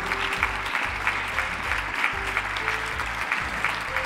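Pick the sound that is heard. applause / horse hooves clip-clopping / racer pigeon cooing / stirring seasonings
applause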